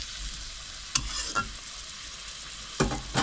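Tilapia with poppy seed paste cooking in a pan, a soft continuous bubbling sizzle broken by a few short scraping stirs of a utensil.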